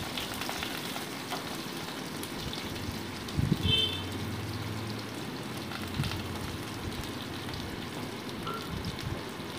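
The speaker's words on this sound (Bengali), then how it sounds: "এবার আমি কেটে রাখা আলুর টুকরোগুলোকে ওর মধ্যে অ্যাড করে দিচ্ছি।" Cut potato pieces hit hot oil in a wok and set off a steady sizzling hiss, with a brief louder crackling burst partway through, then continued even frying, fairly quiet and free of talk.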